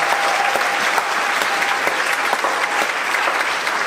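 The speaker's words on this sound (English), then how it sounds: "Please round of applause for our K-12 staff for all they did tonight" Applause from a school choral concert audience fills the room as a loud, continuous patter of many hands, steady throughout with sharper individual claps standing out now and then.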